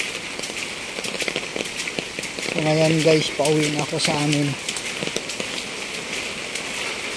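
Steady rain patters on surfaces outdoors, a continuous broadband hiss with scattered drops, while someone talks over it and a bird coos briefly in the background.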